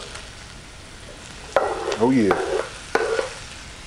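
Mushrooms and onions hit a hot pan and sizzle in a steady frying hiss, with a couple of sharp clatters as they are stirred and a short spoken remark in the middle.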